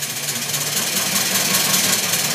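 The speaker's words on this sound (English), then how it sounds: "you'll see the flyball governor react to it and try to allow more steam through to maintain the engine speed" A dual oscillating steam engine with a flyball governor runs steadily, giving a dense, continuous mechanical chuffing and clatter at an even level with no voices.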